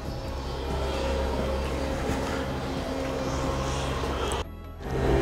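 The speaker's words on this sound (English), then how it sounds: "We've got a street sweeper going on in Gwalia" A street sweeper runs steadily in the background of a ghost-town street in Gwalia, a continuous low mechanical rumble and hiss that dips briefly near the end before swelling back.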